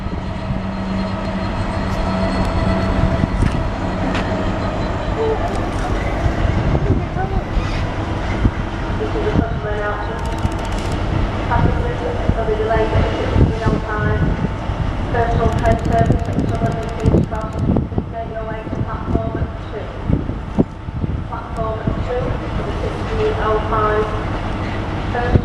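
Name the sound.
freight train passing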